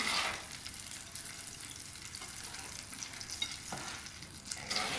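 Steady crackling sizzle of chicken schnitzels frying in a hot pan, continuous and fairly close, with a brief scrape partway through and no talking.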